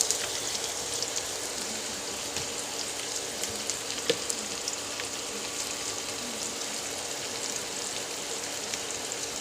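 Thinly cut potatoes fry in oil with a soft, even crackling hiss, steady and fairly quiet throughout with occasional small pops.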